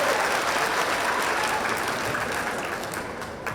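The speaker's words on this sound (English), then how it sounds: "Let's give them another round of applause." A crowd applauds a middle school drill team at an outdoor groundbreaking ceremony, giving loud, continuous clapping that stays even and close, easing off slightly toward the end.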